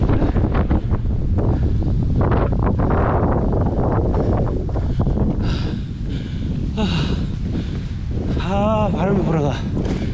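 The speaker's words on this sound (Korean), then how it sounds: "여기 또 영천 오니까 바람이 엄청 붑니다." Strong wind buffets the microphone on a mountain hike on Namsan, Gyeongju, roaring loudly and steadily the whole time with brief gusty swells.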